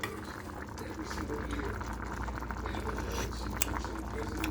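A pot of pangat, a sour dish with fruit, boils steadily with a continuous bubbling and gurgling rumble, close and even throughout, with faint background noise and no clear talk.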